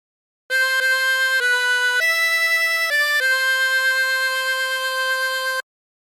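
Solo harmonica playing a phrase of the tune Aura Lee: a connected run of about six single notes changing pitch, the last held long, clear and close with no voices.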